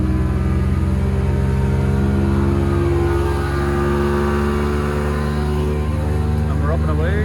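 A Mercury 115HP OptiMax outboard on a Trophy 1802 boat runs at about half throttle, a loud, steady droning hum with someone talking over it.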